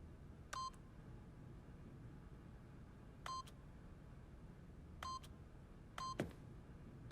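Keypad in The Stanley Parable video game beeps as a code is entered, four crisp electronic tones spaced a second or two apart over a quiet background, the last followed by a soft click.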